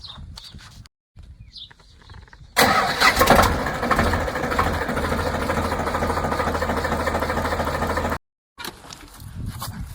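A tractor engine cranks and catches after a few quiet knocks and rustles, then settles into a loud, steady diesel idle close by before cutting off abruptly, followed by faint background noise.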